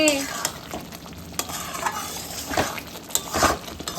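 Spice paste mixed with bowl-rinsing water frying and being stirred in a pan for a vegetarian jackfruit dish, a bubbling sizzle with uneven spatula scrapes and clinks, close and moderately loud, no talking.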